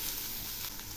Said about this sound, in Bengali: এখন এগুলি নেড়ে দিচ্ছি। একদম শুকনো করে ভেজে নেব